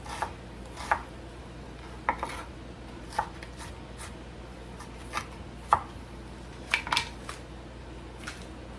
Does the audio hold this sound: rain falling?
no